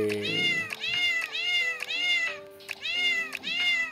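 A cat in the video game Brain Out meows repeatedly, clear and close, in a regular series of rising-falling calls over a soft synthetic backing tone.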